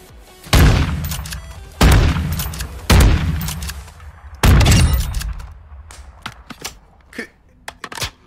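Four heavy, booming shotgun blasts in the Warzone video game, spaced about a second apart, each with a decaying tail, followed by lighter scattered clicks and taps.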